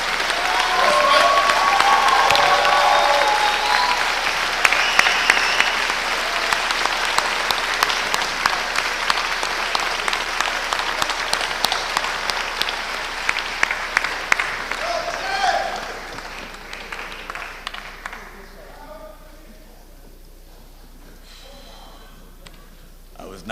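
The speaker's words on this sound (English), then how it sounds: "So let's give him a round of applause." A university audience breaks into loud applause with some cheering, the dense clapping thinning into rhythmic, scattered claps before fading out, with speech audible near the end.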